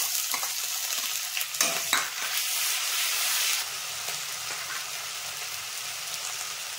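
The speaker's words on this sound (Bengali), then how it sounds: "এবার আমি এই আদা রসুন বাটাটা দিয়ে দিচ্ছি" Ginger garlic paste sizzles loudly as it hits frying onions in a pan, then settles into a steadier, softer fry with scraping stir strokes throughout.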